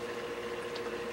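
Automatic alkalinity monitor for a reef aquarium rinsing a vial with fresh water, a soft steady liquid trickle and bubbling under a faint constant hum, brief and close.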